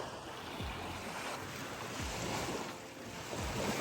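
Small waves wash onto a lake beach at Naramata in the Okanagan Valley, a steady wind-blown surf hiss with a few soft lapping swells breaking at regular intervals.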